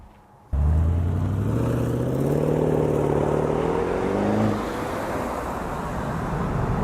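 Range Rover Sport L494 pulling away on a test drive, its engine rising suddenly into a loud sustained roar that climbs in pitch as it accelerates, then settles into steady road noise.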